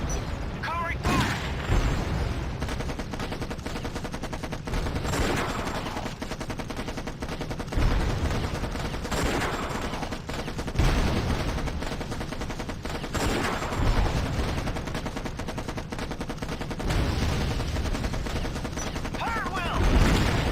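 Dense automatic gunfire and booming blasts from the real-time strategy game Act of War: High Treason, sustained rapid bursts rolling across the whole stretch with heavy impacts, loud and close, with in-game unit voices speaking underneath.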